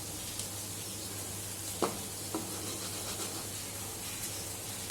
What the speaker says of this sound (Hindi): तो अंडा हमने फेंट लिया, अब मैं इसको फ्राई पैन के अंदर डाल दूँगा।